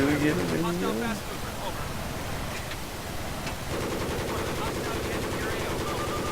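Rapid gunfire from a video game shooter, aimed at an enemy helicopter, rattling steadily for several seconds as a dense, close barrage with a voice talking over the start.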